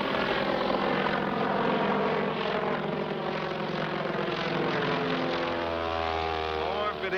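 A noisy propeller airplane droning low overhead in a 1941 American film, a loud continuous engine roar that fills the whole stretch with no talk.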